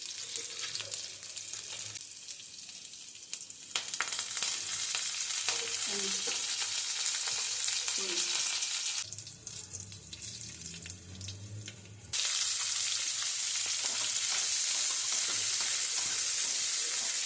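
Mustard seeds and cumin fry in oil for a North Karnataka-style vegetable palya, a close crackling sizzle with stirring clatter, and a brief running-water sound partway through before the sizzle returns louder and steadier.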